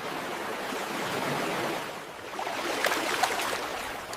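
Ocean waves wash in at a beach, a broad steady rush of surf that swells and eases, with a brighter splash of breaking water near the end.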